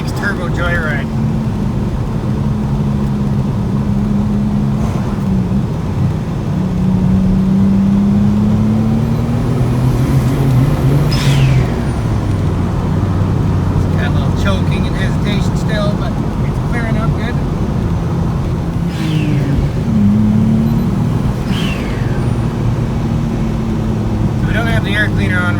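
A small V6 turbo car, apparently a Mazda MX-3, accelerates on a joyride, its low engine drone rising and holding steady from inside the cabin, with wind rush and a voice talking over it.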